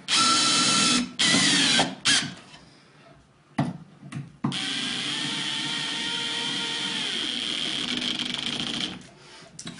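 A cordless power drill drives screws into a plastic compost bin during assembly, several short whirring bursts at first, then one long steady run for about five seconds, loud and close.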